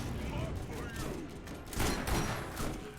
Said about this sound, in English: He has a fucking powerful shotgun